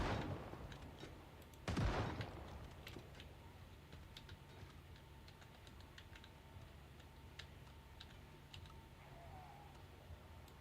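A single loud gunshot rings out in Project Zomboid, a sharp crack with a short decay, followed by quiet clicks and faint background game noise.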